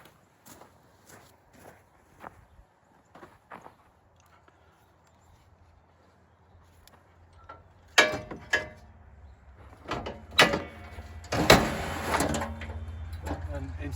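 Snow plow being detached from a Kawasaki Ridge side-by-side, with a few soft clanks and footsteps early on, then louder metallic knocks, scraping and rattling of plow hardware near the end; no talking.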